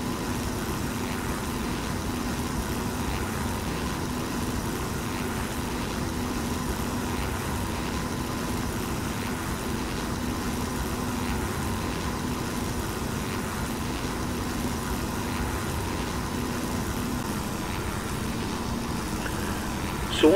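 Steady, droning engine hum of an Ercoupe 415-C light aircraft cruising at about 1500 feet in the X-Plane flight simulator, continuous and unchanging throughout.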